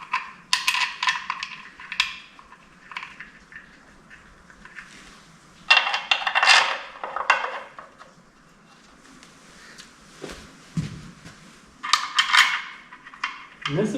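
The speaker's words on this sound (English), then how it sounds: "Now I'm gonna go ahead and stick these other bolts in" Metal bolts clink and rattle while being fitted into a stock 5.3 engine and 4L80E transmission for a C10 truck, in several short bursts of clatter with quiet gaps between them.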